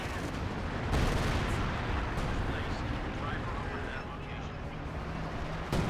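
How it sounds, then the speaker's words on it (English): Artillery fire in the real-time strategy game Company of Heroes 2, a dense continuous barrage of booming blasts and rumbling impacts filling the whole stretch, with a sharp heavier hit near the start and players talking underneath. "your stuff is being hit by the arty gun"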